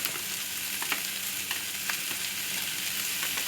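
Mussels and long beans stir-fry in a hot pan for a chili stir-fry, giving a steady close sizzle with periodic scraping and stirring clatters throughout, no talking.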